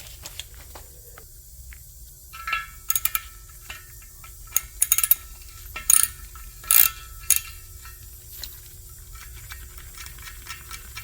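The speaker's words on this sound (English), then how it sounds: "I'm just going to use a socket to get it off." A socket wrench works a TPMS sensor off a wheel from a RAM Promaster, giving short bursts of sharp metallic clicks and ratcheting against a quiet background.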